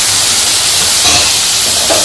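Onion, ginger, garlic and cashews sizzle loudly in hot oil and ghee, a steady broadband hiss holding close and constant with no talk.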